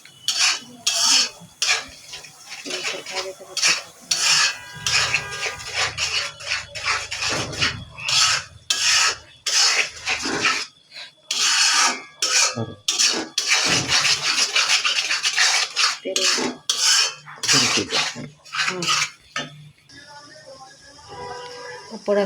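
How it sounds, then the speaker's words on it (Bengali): Egg frying in a pan for fried rice while a spatula stirs and scrapes it, producing repeated rhythmic rasping scrapes and clatters against the pan in short bursts with brief pauses between them. "ফ্রাইড রাইসের জন্য আমি ডিমটাকে প্রথমে ভেজে নিচ্ছি।"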